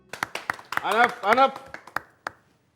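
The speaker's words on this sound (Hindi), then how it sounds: "बच्चे लोग ताली बजाओ" A few scattered, uneven claps from children ring out close by while an adult voice talks over them, at a crime-drama police station scene.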